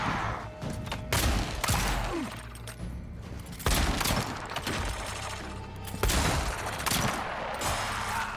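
Repeated loud impacts and blasts from combat in the fantasy game Avowed, arriving every second or two over a continuous battle din.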